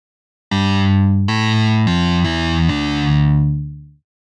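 Overdrive distortion from the Roland Zenology Pro synth plugin: five loud, sustained buzzing notes in a row, the last one held and then fading out, with no talk.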